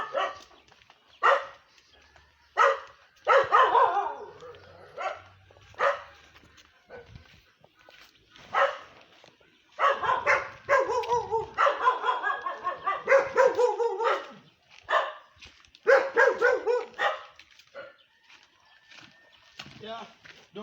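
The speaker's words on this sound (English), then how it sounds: "don't mind my dogs" Dogs bark repeatedly in loud bursts, several barking at once, with some yips mixed in and short pauses between rounds.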